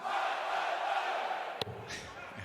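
Crowd at a 2022 Grand Slam of Darts group match roaring and chanting in support of Australian Simon Whitlock, a dense, steady wall of voices with a sharp clap-like burst near the end.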